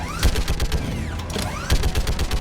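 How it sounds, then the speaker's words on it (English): Weapon overheating in the video game Mass Effect 3 sounds through dense combat audio: sweeping mechanical tones, ratcheting clicks and sharp bursts, steady and loud for a couple of seconds, with no talking. "Keeps making the overheating sound."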